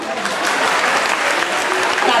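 An audience under a circus-style tent at a neighbourhood contrade festival event in Solagna claps steadily, a dense, sustained wash of applause that holds evenly for the whole stretch.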